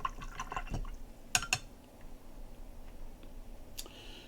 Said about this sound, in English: our next little step is to rinse the brush.